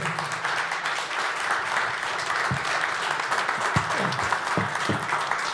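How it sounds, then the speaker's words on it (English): Summit attendees clap for the panelists at a small business media summit in a loud, continuous round of applause, with a few faint voices and thumps near the end. "I want to give a real awesome round of applause for our panelists today"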